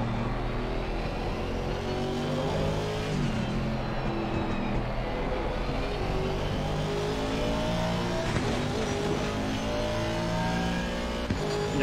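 A Ferrari race car roars through a lap of Assetto Corsa Competizione at Indianapolis, its engine loud and continuous, rising and falling as it revs through gears with no pause.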